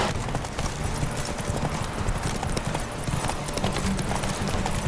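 Roach, the horse in The Witcher 3, gallops with loud, rapid, continuous clip-clopping hoofbeats up close, a brief whinny mixed in, over busy game ambience.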